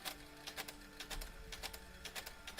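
A printer prints out text in a rapid, uneven series of sharp mechanical clicks and clatters, close by and fairly faint, with no voices.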